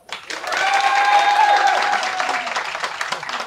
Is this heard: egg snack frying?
no